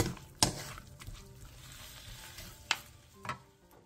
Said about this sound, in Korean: 소금을 넣고 후추, 들기름 반스푼, 통깨를 넣고 뒤적여주세요